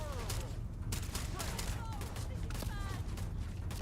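Gunfire from a Starfield gameplay session, a spread of shots and bursts scattered across a steady game soundscape, with voices talking through it.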